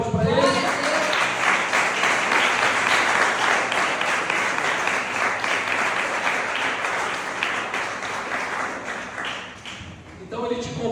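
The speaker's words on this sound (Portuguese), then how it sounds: "verdadeiramente você pode dar uma salva de palmas para Ele?" A church congregation applauds, dense sustained clapping from many hands that fills the space for about ten seconds before tapering off, with a voice speaking near the end.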